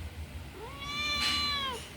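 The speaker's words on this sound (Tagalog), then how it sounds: "Lalaki yung aking pusa." A male house cat meows once, a rising then falling drawn-out call that lasts over a second, close and clear against a quiet indoor background.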